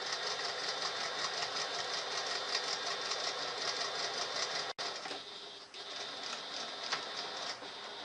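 A sewing machine hums steadily while sewing a reverse stitch on a small fabric case, with a brief break partway and then a continued, slightly uneven mechanical whir, close and fairly loud.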